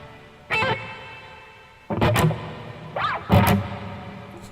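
An electric guitar through an Overloud TH3 Marshall amp sim with reverb plays a few separate distorted hits, each leaving a long echoing tail that fills the gaps between them.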